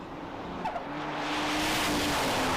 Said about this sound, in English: 3 simultaneous amber flashes and a green light go for Wade Minter and the Corvette